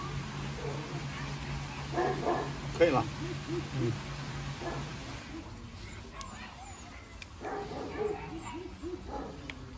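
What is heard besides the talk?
Rottweiler puppy barking and whimpering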